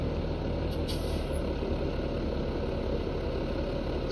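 A truck idling in a farming video game, a steady rumbling engine drone throughout, with a brief sharp air-brake hiss near the start.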